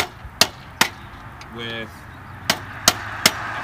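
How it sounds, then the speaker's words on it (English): A hammer drives a flat-head screwdriver to shear aluminum rivet heads while fitting a new top to a Mazda Miata, giving six sharp metallic taps at irregular intervals, with a brief voice partway through. "So what I'm trying to do is go more of the old school route and shear the head of these aluminum rivets off"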